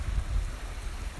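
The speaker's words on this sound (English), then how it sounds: "so it's probably raining" Steady rain falls outside, a dense low rumble and hiss of drops on surfaces holding at a fairly even level throughout, with no voices.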